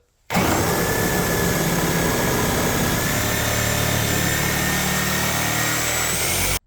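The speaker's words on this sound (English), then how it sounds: "Now we have the standard Diablo blade. Let's see how it does." A reciprocating saw fitted with a standard Diablo blade cuts continuously, a loud, steady high-pitched buzzing whine that starts abruptly and stops abruptly about six seconds later.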